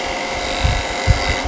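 A woodturning tool cuts a spinning wooden sphere on a lathe, a steady motor hum with a few soft scraping pulses where the tool meets the high spots.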